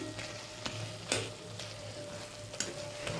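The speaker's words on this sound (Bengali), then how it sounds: "টমেটোগুলো মজে গেছে এগুলো ভালো করে একটু ম্যাশ করে দেবো খুঁজিটা দিয়ে চেপে চেপে দিচ্ছি" Cooked tomatoes for chutney get pressed and mashed with a spatula in a pan, soft squelching strokes and a few sharp scrapes against metal over a low sizzle.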